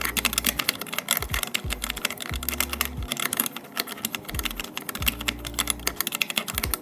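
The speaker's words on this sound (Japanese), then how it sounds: "ちなみに打鍵音はこんな感じです。" Rapid clacky keystrokes on a handmade pocket-sized mechanical keyboard with an aluminium case, the Geonix48, heard up close and continuous with a few deeper thocks from larger keys, with no voices.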